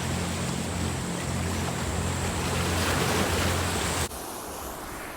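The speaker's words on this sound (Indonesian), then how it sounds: "Pantai." Ocean waves wash steadily onto a beach at Gili Trawangan, a loud continuous roar of surf with wind, cutting abruptly to a quieter, thinner wash in the final second.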